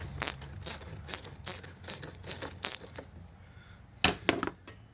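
Band-style hose clamps being loosened on the water pump of a 1999-2006 GMC Sierra with a 5.3L V8, giving a series of sharp, evenly spaced ratcheting clicks, then a pause and two more close bursts.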